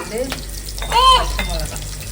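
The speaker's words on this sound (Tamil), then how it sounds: "எண்ணெய் நல்லா காஞ்சிடுச்சு இந்த வெங்காயம் கூட நான் கட் பண்ணி வச்சுருக்கேன்" Chopped onions fry in hot oil, a close, steady sizzle with stirring scrapes and a brief clink of a utensil against the pan.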